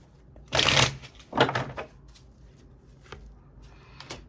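Tarot cards shuffled by hand in two brisk riffling bursts, close and fairly loud, followed by softer taps and card handling, with no talking.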